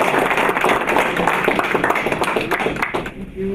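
Audience applause at an awards event, a dense steady wash of many hands clapping loudly for several seconds before tapering off near the end.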